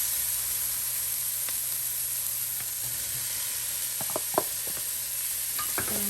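Carrots, peppers and onions sizzle in a pan with a bright, continuous hiss, joined near the end by a few clattering stirs.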